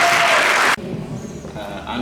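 Loud applause from an audience at a career expo talk show, a dense burst of clapping that stops abruptly after under a second, followed by quieter room sound and murmuring.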